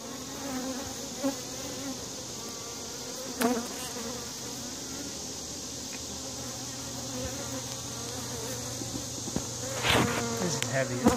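Honey bees swarming around an open beehive, a dense, continuous close-up buzzing with individual bees passing near, plus a few brief knocks and handling sounds.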